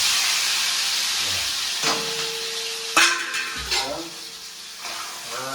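Ingredients for vaghareli bhel hit hot oil with a loud hissing sizzle that settles into a steady crackle, broken by a few scrapes and clanks of stirring.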